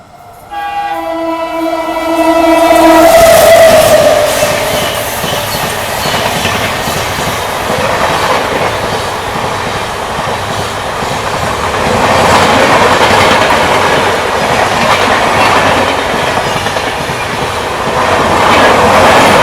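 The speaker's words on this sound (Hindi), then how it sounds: "ये आ गई कर्नाटका सुपरफास्ट" The Karnataka Superfast overtakes on the parallel main line, opening with a loud sustained horn blast, then a long, close roar of passing coaches with rhythmic wheel clatter and occasional squeal.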